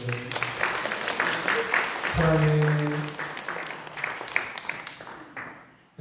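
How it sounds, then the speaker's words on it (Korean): Church congregation clapping to welcome a baby at a service, a busy patter of many hands that swells and fades, with a voice briefly speaking and a sustained tone sounding partway through. "우리 도를 위해서 박수 한번 해주세요."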